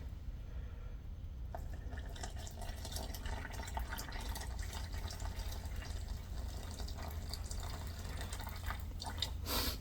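Water pours steadily from a container into a vessel sitting on a kitchen scale, part of a metal-casting setup. It makes a continuous close trickle and splash for several seconds, with no voices.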